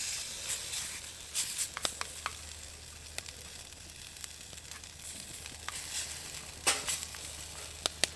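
Camp stove burning in a winter hammock camp, heating water for morning coffee and oatmeal: a steady low roar and faint hiss with occasional sharp clicks and crackles, close and fairly quiet, no talking.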